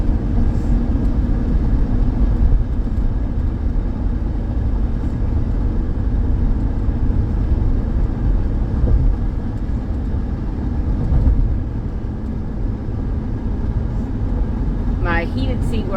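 Steady, even road and engine rumble fills the cabin of a 2012 Honda Pilot as it climbs a hill, a smooth continuous drone with no sharp interruptions.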